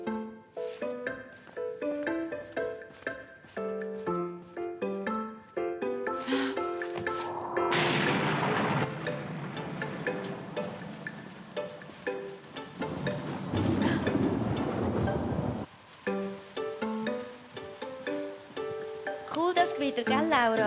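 A cartoon thunderstorm in the Swiss German children's show Lauras Stern rumbles in with a long, heavy crack of thunder and noisy downpour, surging twice amid background music and brief chimes.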